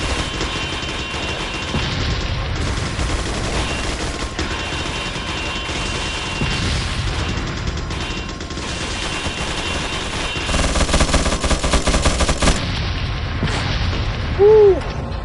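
Mounted gun in Resident Evil 4 firing in sustained, rapid bursts, loud booming shots and explosions packed densely over a constant roar of game action.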